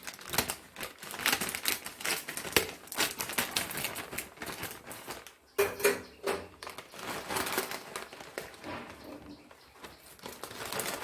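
Packet of dried chow mein noodles being cut open, busy crinkling and rustling of plastic with scattered sharp crackles, close and fairly quiet, continuing for several seconds.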